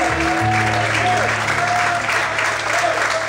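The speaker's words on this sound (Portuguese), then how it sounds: "Quantos podem aplaudir o Senhor?" Sustained, loud applause from a church congregation fills the space, with held keyboard or organ tones sounding underneath the dense, steady clapping.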